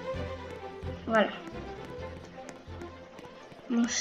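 Horse hooves gallop in the Roblox Brookhaven game, a quick run of light, rhythmic clip-clop taps under a child's chatter in French, with a couple of brighter game tones.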